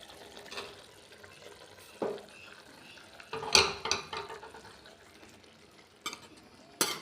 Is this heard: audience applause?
no